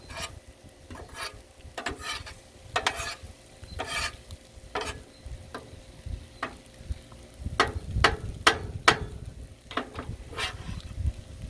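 Jambalaya stirred on a Blackstone griddle: repeated scraping strokes of a metal spatula against the flat top, irregular and close, over a soft sizzle, growing busier toward the end.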